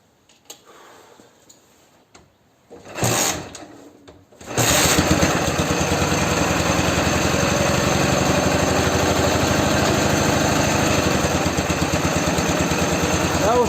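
A Ural or Dnepr motorcycle engine is adjusted at the carburetor: after a few quiet knocks and a brief burst it starts and idles steadily with a close, rapid ticking chug through the rest.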